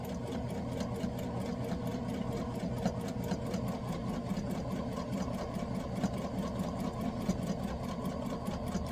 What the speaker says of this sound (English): sew across that end